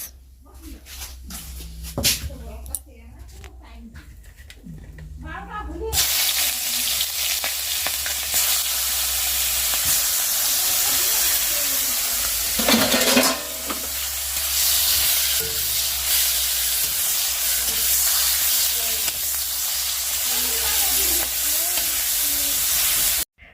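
Dried fish and onion hit hot oil in a kadai and burst into a loud, continuous sizzle that carries on steadily, with a voice talking over the frying.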